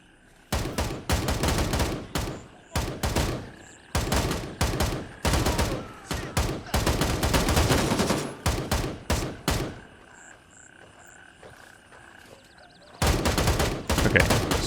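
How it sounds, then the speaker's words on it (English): Rapid automatic gunfire in the shooter Gray Zone Warfare, loud close bursts of several rounds each, broken by short pauses and a longer quiet gap before firing resumes. "this is the gun audio"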